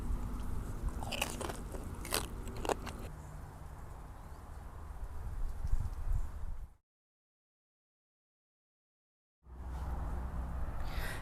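Loud crunchy bites and chewing of crispy deep-fried pork belly close to the mouth, sharp cracks at first giving way to steady mastication, then a sudden gap of silence before chewing resumes.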